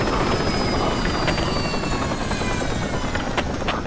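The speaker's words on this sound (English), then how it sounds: "there's a helicopter here, but no one is driving it" A military helicopter in the Project Reality video game idles nearby with a steady, loud rotor whine and whooshing blade noise, heard continuously without talk.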